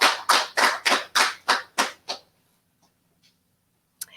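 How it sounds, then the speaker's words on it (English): Audience clapping in rhythmic, evenly spaced bursts, about eight claps that stop after two seconds, followed by near silence and a faint knock. "clap as Eliza comes up to share her story."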